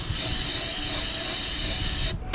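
A steady, close hiss of aerosol cleaner sprayed onto the throttle body of a 1997 Ford F-150 truck, one continuous burst that cuts off near the end with a brief second puff.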